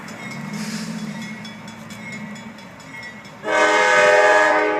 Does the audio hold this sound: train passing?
yes